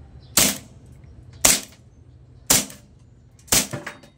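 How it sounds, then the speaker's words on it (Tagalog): Toy gun fired at a glass bottle: four sharp, loud cracks about one second apart, each ending in a short clattering tail, with a quiet hum between shots. "Ganyan po siya kalakas yung baril natin. Kayang-kayang basagin po yung bote."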